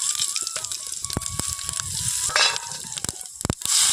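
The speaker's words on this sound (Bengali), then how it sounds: "ওই তেলের মধ্যে দিয়ে দিচ্ছি এক চিমটি হিং দিচ্ছি পাঁচ ফোড়ন" Pinch of asafoetida and Bengali five-spice dropped into hot oil left from frying potatoes, crackling and sizzling steadily and close by with a few sharper spits and pops, no voices.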